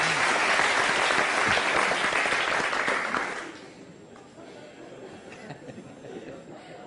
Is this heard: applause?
yes